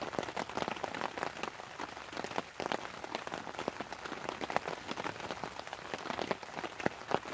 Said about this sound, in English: It's not going to be just yet because it's absolutely chucking it down the rain,